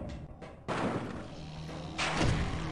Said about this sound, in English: I really like those spore grenades.